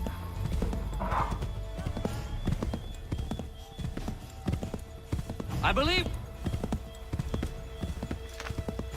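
Horse hooves clip-clop in a steady rhythm in Assassin's Creed, close and fairly loud, with a horse whinnying midway and a voice speaking briefly over the galloping.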